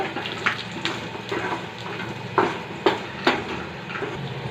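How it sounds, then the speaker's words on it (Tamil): A spoon scraping and stirring chicken with onions in a cooking pan, with several distinct clinks and scrapes over a soft background sizzle, close by. "கொஞ்சமாக பெரட்டுறோம்."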